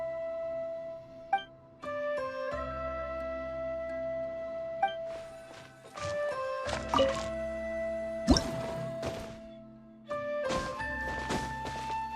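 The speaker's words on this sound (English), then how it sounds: "Wow, another water droplet just came out from the wall!" Water droplets from a wall in a video game drip with bright, hollow plinks and soft squishy plops, several separate drops spaced irregularly over a quiet background of sustained musical tones.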